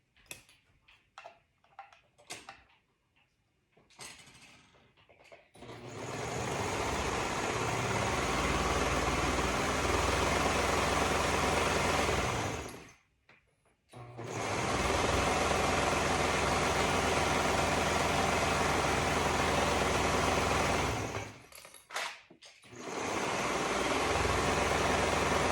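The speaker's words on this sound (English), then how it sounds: "And we're going to sew the other side." A sewing machine stitches the side seam of a dolman bodice in two long, loud, steady runs, its motor humming with a rapid even clatter, broken by a brief pause and preceded by a few handling clicks.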